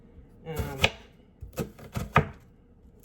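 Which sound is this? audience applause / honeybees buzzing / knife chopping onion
knife chopping onion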